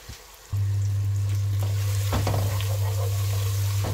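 Spice masala roasts in a hot pan with brains about to be added, a loud, steady sizzle starting abruptly after a brief quiet moment and holding constant with faint stirring scrapes.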